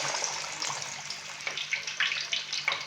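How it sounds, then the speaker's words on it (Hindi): Two chicken pieces frying in well-heated oil in a kadai, Delhi Jama Masjid style, give a steady close hiss of sizzling with scattered sharper crackles and pops throughout, no voices. "अभी कढ़ाई के अंदर मैंने चिकन के 2 पीस डाले हैं फ्राई होने के लिए"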